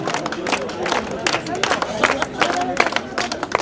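Audience at a state-level volleyball tournament in Ambamata, Udaipur, claps in an irregular patter of sharp claps over crowd murmur, with a voice talking over it throughout.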